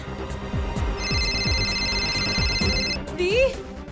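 A telephone rings in a household scene, its bright warbling tone pulsing steadily for about two seconds, with rhythmic thuds and a rising sweep around it.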